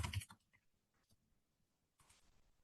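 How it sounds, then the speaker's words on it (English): Computer keyboard typing while entering survey question text in Qualtrics, a dense burst of clicks at the start, then scattered soft keystrokes and a short second flurry near the end, fairly faint and close. "you're going to have to excuse my typing because I always type bad"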